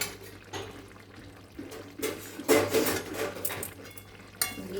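A dry-cooked cauliflower dish with kasuri methi and ghee being stirred in a pan: intermittent spoon scrapes and metallic clatter, louder in bursts near the middle and end, over a low steady hum.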